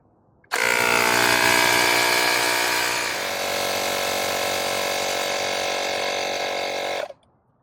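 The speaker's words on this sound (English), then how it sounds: "let's see how long it takes this pump to pump the tire up from 0 pressure to 41" A small electric air pump inflates the rear tire of a 2023 Honda Goldwing motorcycle, starting abruptly with a loud, steady mechanical buzzing drone that runs for several seconds and then cuts off sharply.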